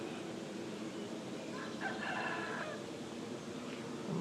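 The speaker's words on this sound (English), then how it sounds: "And the chickens want out." Chickens clucking and a rooster crowing faintly in the distance, over a quiet outdoor background.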